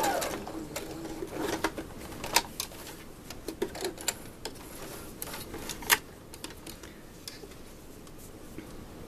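A sewing machine back-stitching a gown strap ticks in quick, light bursts of needle clatter, close by and fairly quiet, with short pauses between runs.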